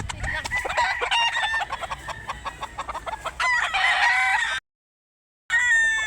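A rooster crows loudly and close by while chickens cluck around it, then a moment of dead silence before the birds resume.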